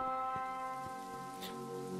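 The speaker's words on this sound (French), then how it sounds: "Il pleut" Steady rain patters softly in the video game The Way Remastered, over a humming, tonal ambient background, with a few faint drip-like taps.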